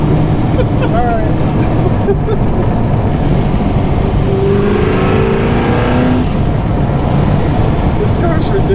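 A Ford GT40 race car accelerates hard through a couple of gears, giving a loud, constant engine roar heard from inside the cabin with a voice speaking over it.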